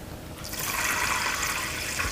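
Plain tap water pours steadily onto soaked yellow lentils in a pot for tarka dal, a continuous splashing rush that starts after a brief quiet moment and carries on evenly, close by and without talk.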